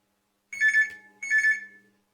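A telephone rings with an incoming call, two clear electronic trills about three quarters of a second apart, with silence before and after.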